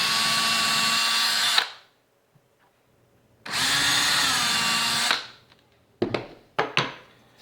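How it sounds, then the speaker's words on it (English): A power drill whirs into wood in two long bursts with a pause between, then a few short sharp clicks and knocks close by. "now I'm going to go through those same holes and drill a little bit"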